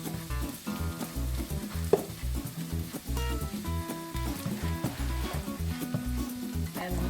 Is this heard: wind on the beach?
no